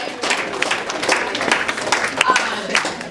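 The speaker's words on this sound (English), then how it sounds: "we can give them a round of applause" An audience at a DECA state informational meeting gives a round of applause, a steady wash of many hands clapping at moderate loudness for several seconds, with voices mixed in.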